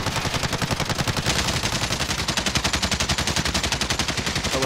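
Rapid automatic gunfire from Call of Duty Modern Warfare, a steady, loud, close stream of evenly spaced shots with no talk over it.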